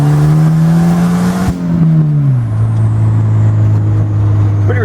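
A turbocharged Volvo wagon on stock boost accelerates hard in first gear, its loud engine drone climbing steadily in pitch, then dropping as the revs fall away before pulling on again, with no talking over it.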